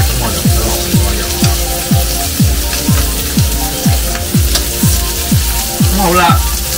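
Food sizzles on a Taobao barbecue grill as oil renders from skewers, a steady close frying hiss under a regular low, pulsing thump that repeats about twice a second.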